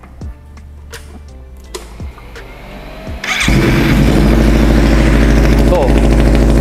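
A Kawasaki Ninja 250cc engine fitted to a custom chopper is cranked and catches at about three seconds, then settles into a loud, steady close idle. Before that come a few quiet clicks and knocks.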